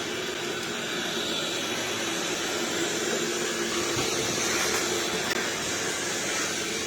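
A Roborock S7 robot vacuum and mop running on its normal mopping setting, a steady broadband whir with a continuous airy hiss held at an even level throughout, close by and without any speech.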